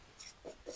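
Pen writing out a maths solution on paper, a few short soft scratching strokes, close and quiet, with no talking.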